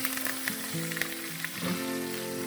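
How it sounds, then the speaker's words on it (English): Meat fat sears in a hot pan with a light, continuous sizzle and occasional small pops. Faint background tones sit underneath, and no one speaks. "And sear the fat."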